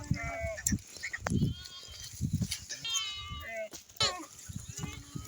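Sheep bleat repeatedly at close range in a pen, several wavering calls overlapping one another, with people talking nearby.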